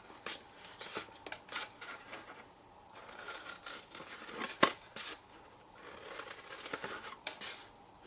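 Repeated crisp snips of scissors cutting through stiff card, close and fairly quiet, in short irregular bursts with brief pauses between cuts.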